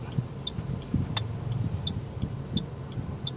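Road traffic in Loei province, Thailand, with car engines rumbling low and steady as vehicles pass, accompanied by faint regular ticking sounds.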